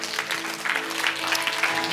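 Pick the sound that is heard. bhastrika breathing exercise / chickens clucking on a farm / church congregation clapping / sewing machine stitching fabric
church congregation clapping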